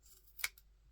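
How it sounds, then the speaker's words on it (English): A single quick snip of scissors cutting through soft yarn, crisp and close against a quiet background. "get a pair of scissors and chop it as small as you can possibly get away with"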